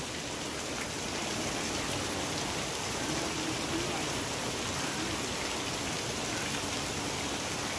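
Garden fountains at Saheli ki Bari in Udaipur shower water down like heavy rain, a dense, steady hiss of falling drops that stays even and close throughout, with no talk.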